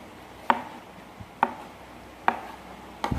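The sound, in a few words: chopping squid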